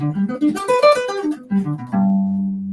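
Plucked guitar notes played one after another in an arpeggio pattern, ending on a sustained ringing note.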